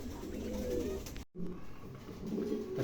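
Pigeons cooing softly in a low, repeated rhythm, with a brief gap partway through before the cooing resumes at a moderate distance.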